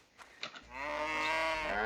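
A cow in the My Time at Portia farming game moos after being patted: a drawn-out, harmonic moo that swells loud and close, lasting over a second after a few soft clicks.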